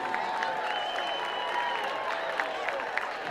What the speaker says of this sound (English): how about a big round of applause for your future Mountain Brook High School cheerleaders?